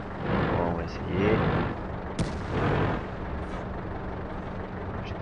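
A Tiger tank's main gun fires once in World of Tanks, a sharp blast near the two-second mark with a short rumbling tail, set among engine and battle noise while someone talks over it.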